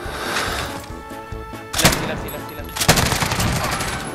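Rapid bursts of automatic gunfire ring out in Call of Duty Warzone, loud and close, with two sharp heavier shots standing out amid the steady rattle of game sounds.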